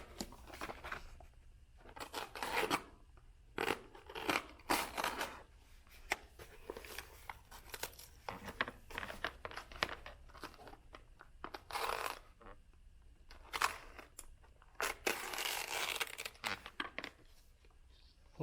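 Scissors cutting out a dragon mouth piece for a lion dance costume, with irregular close snips and paper or card rustles coming in bursts, quiet and handled.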